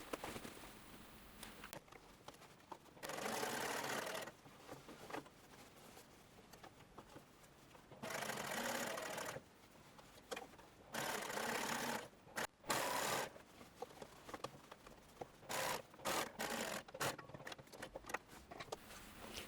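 Sewing machine stitching a dress seam, running in several bursts of fast steady whirring separated by short pauses and quieter stretches.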